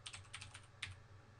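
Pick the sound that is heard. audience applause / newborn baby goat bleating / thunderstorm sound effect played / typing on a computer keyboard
typing on a computer keyboard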